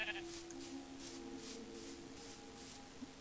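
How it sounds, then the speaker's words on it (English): Sheep in the video game Minecraft bleat repeatedly in quick, evenly spaced nasal calls, fairly faint and close, with no talking over them. "sheep."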